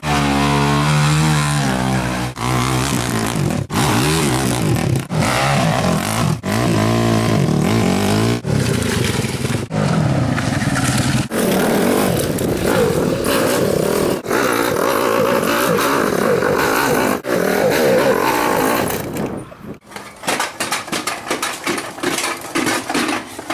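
Motocross dirt bike engine revving hard and continuously at close range, pitch rising and falling through repeated throttle blips and gear changes, with brief cuts and a sudden drop near the end before sputtering restarts.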